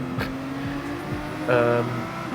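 A slow Renault race car in Gran Turismo Sport drones near and loud, its engine note rising and shifting as it runs through a chicane, with a brief tone jump partway through.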